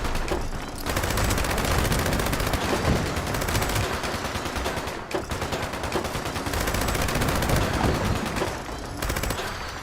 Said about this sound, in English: Look at that explosion! All those supermutants got launched up into the air.